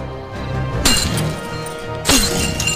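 Two sharp, loud breaking crashes, about a second apart, each bursting out with a brief metallic rattle as iron chains snap.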